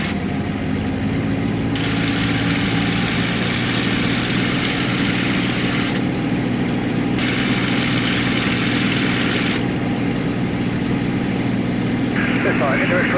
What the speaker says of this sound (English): Okay, so I'm going to increase the engine power.